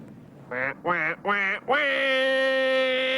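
A cartoonish duck voice gives three short quacks and then one long, sustained quacking note, loud and close, heard alone.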